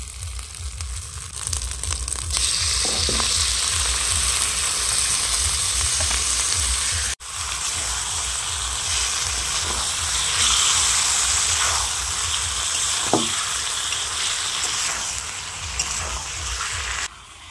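Marinated goat mutton frying in hot oil for mutton kosha, a continuous loud sizzle and hiss with occasional scraping of a stirring spatula, close and steady with no talking.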